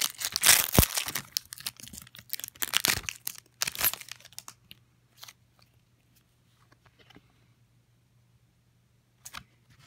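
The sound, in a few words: tearing open Magic The Gathering card pack wrappers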